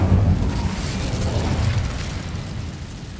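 Incendio fire spell cast in a witch adventure game: a loud burst and whooshing fiery roar that starts strong and slowly fades over a few seconds, close and without talk.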